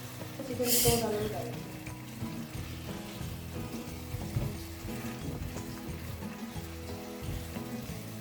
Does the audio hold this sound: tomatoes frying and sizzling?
yes